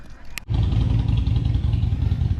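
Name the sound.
Harley-Davidson motorcycle engine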